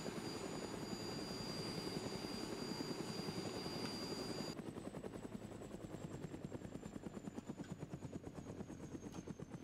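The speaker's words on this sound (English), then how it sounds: "I'm stuck in the helicopter." A helicopter in the video game DayZ drones with a loud, continuous rotor chop and engine whine, steady and close throughout, no voices.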